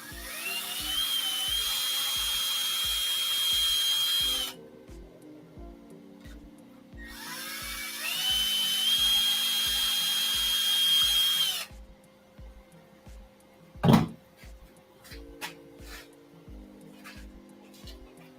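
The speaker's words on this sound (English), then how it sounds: "use the drill press stand." A drill press spins up twice in a workshop, each run a loud sustained high whine with rising pitch that stops abruptly, followed by quieter mechanical hum and a sharp knock.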